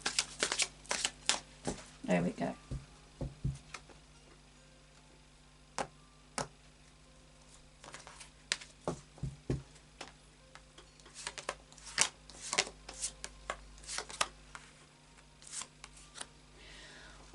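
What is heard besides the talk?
shuffling a deck of tarot cards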